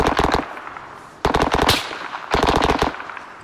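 Automatic gunfire in the military shooter game Arma 3: three sharp, rapid bursts of machine-gun fire, close and loud, separated by short pauses.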